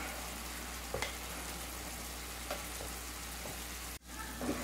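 Chicken biryani masala with softened tomato sizzles steadily in a pan while it is mixed, a continuous frying hiss with a few faint stirring scrapes, moderately quiet and without speech.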